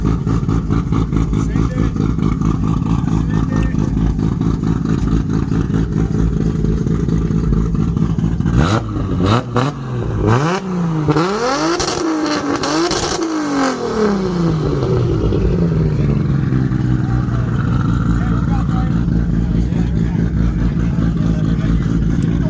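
Faulty-sounding car engine idling roughly, then revving in a few sharp bursts that rise and fall before settling back to a rough idle, close and loud, with people talking over it.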